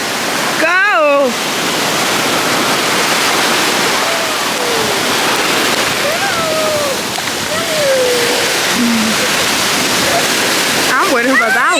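Surf at a crowded Miami beach makes a continuous loud wash, with scattered voices, shouts and a whistle-like call rising above it from time to time.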